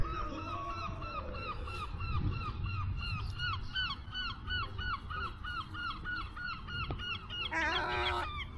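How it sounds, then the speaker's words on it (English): A large flock of geese honks continuously and loudly at close range on a seaside walk at Skegness, with repeated overlapping calls and a burst of shriller cries near the end. "Oh, Sandra, there's about 50 geese coming to join us."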